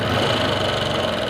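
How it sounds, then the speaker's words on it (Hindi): A motorcycle with a faulty self-starter running with an abnormal noise, a steady close mechanical whir and rattle with no pauses. "तो अभी स्टार्ट हो गई है और बंद होते भी आवाज़ कर रही है।"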